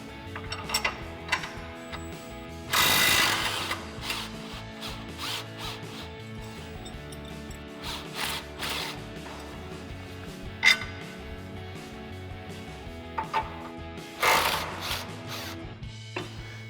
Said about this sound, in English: we'll grab our 18 mil socket and our impact again and our 18 mil wrench, and we'll remove the upper mounting nut and the lower mounting bolt